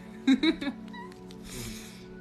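Cat meowing close by indoors, three quick rising meows in a row, followed by soft rustling and faint noise.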